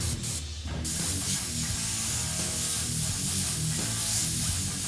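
An airbrush sprays paint in a steady close hiss, continuous for several seconds after a short opening burst, with no talking.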